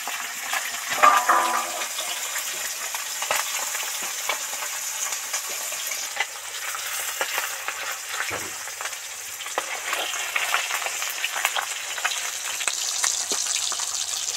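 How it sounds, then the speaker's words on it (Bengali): Bata fish deep-frying in hot oil, a steady bubbling hiss with splashy crackles that runs throughout at moderate loudness, with no talking. "সব মাছটা ডিপ ফ্রাই করে ধরে ধরে ভেজে নিলাম"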